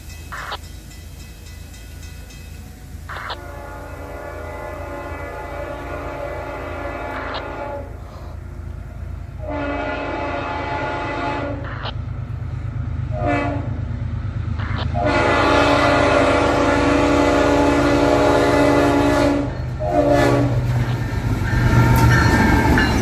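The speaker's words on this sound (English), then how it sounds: "here is the first time I caught CSX 3194 and any Pride in Service locomotive on CSX, as it led intermodal Q016 through Charlton" CSX 3194, a Pride in Service locomotive, leads intermodal train Q016 through Charlton, Maryland, its horn blowing in repeated loud blasts over a steady rumble of rolling cars that grows louder as it passes close by.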